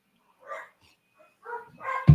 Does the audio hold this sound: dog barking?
yes